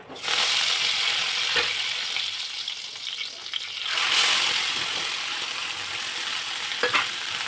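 Mustard seeds and curry leaves sizzle and crackle steadily in hot oil for a Maharashtrian patwadi rassa curry, a loud continuous frying hiss with a few sharp pops and a brief surge midway, no talking.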